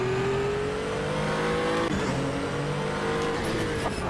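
An LMP2 race car engine screams in the GTR2 racing game, a loud, steady high-revving whine that dips briefly at a shift and climbs again, with no talking.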